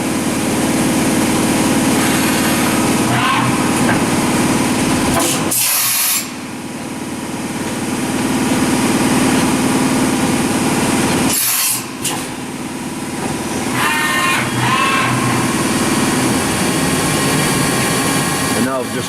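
A Doosan DMV3016LD CNC machine drilling holes runs with a steady high whine and grinding hum, broken twice by brief bursts and pauses as it works through a cycle.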